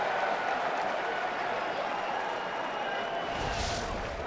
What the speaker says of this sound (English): A Bronx cheer from the fans here.